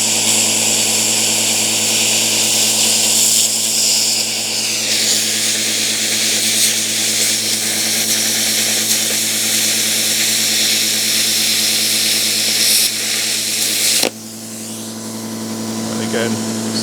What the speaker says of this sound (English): So just a thin steel radiator bracket this time.